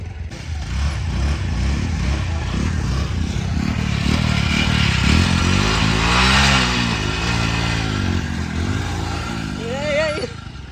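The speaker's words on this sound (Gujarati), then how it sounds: "હવે પાછું આપણે એક્ટિવામાં જોર લગાડ્યું" Honda Activa scooter engine revving hard during a race against a Splendour motorcycle, a loud, wavering engine roar that rises and falls, with people talking and shouting over it.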